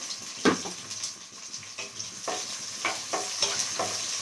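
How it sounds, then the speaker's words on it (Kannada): Onions frying in two to three spoons of already hot oil over a low flame, a constant close crackling sizzle broken by repeated scraping stirs and clinks of a spoon against the pan. "ಸೊ ನಾನೀಗ ಈ ಆನಿಯನ್ನ ಹಾಕ್ಕೊಂಡು ನೀಟಾಗಿ ಫ್ರೈ ಮಾಡ್ಕೊಳ್ತೀನಿ."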